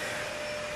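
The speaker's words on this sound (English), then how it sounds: "Mother's actually currently vacuuming" A household vacuum cleaner runs steadily indoors at close range, its constant whirring drone holding a level tone without pause, with no voices over it.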